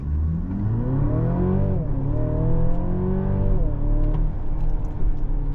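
A 2024 Mercedes-Benz GLC Coupe hybrid accelerating on an empty road, its engine note climbing steadily through rising revs with a brief dip as it shifts, loud and continuous from inside the cabin.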